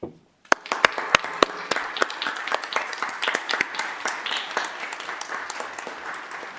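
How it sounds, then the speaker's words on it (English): Applause for essential workers breaks out at a city council meeting in Columbus, starting with sharp individual claps and swelling into steady, dense clapping from a room of people that holds for several seconds. "they deserve a round of applause"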